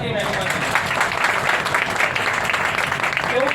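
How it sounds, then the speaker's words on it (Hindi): A church congregation claps hands together in praise, a dense, steady burst of many hands filling the room, with a voice faintly mixed underneath. "ताली बजाएं प्रभु की महिमा"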